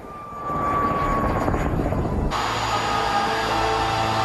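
Helicopter rotors during an autorotation descent, a loud close continuous thrum and whine that steadily fills the scene with no voices.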